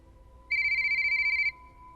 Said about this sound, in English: I had this default ringtone to recognize job calls